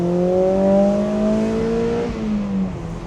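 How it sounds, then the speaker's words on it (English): Mazda NC Miata engine and exhaust heard from inside while driving, a steady droning note that rises gradually in pitch then drops briefly near the end, loud and alone. "The exhaust note on this car is so good. I love the way that the NC Miata sounds."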